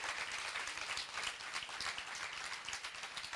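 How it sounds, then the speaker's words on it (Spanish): A conference hall audience at a legal talk on children's progressive autonomy applauds, a dense, fairly faint patter of clapping that stays even throughout. "yo pido un aplauso para eso"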